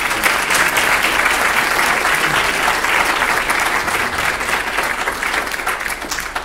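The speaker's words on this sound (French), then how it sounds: "je demande d'applaudir Sabrina Krief" An audience at a science talk applauds the speaker, a primatologist who studies wild chimpanzees; thick, even clapping holds steady and loud throughout, tapering only slightly at the end.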